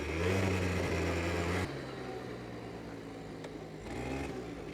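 A Yamaha Zuma Bugeye scooter engine revs hard and loud, then drops back to a steadier, quieter idle before rising briefly again near the end.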